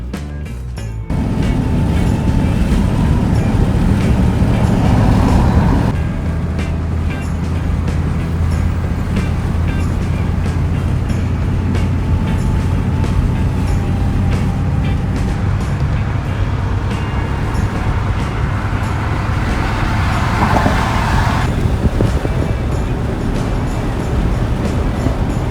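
A truck drives down the road, a steady engine rumble and road noise holding loud and continuous throughout, with a brief shift in tone near the start and again past the twenty-second mark.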